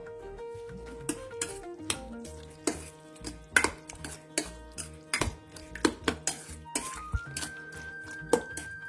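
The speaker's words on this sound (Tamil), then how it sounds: "நல்லா கர்ட் போட்டுக்கலாம், போட்டு மிக்ஸ் பண்ணிக்கலாம்." Curd is stirred into chopped capsicum raita, with a spoon repeatedly clinking and scraping against a bowl in quick, irregular taps, close and fairly quiet, over faint background music.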